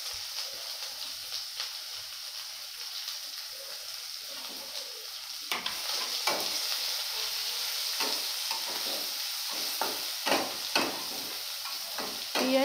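Onions sizzle and fry in a pan, a soft hiss that swells after a few seconds, broken by repeated scraping stirs and light clatters of a spoon against the pan.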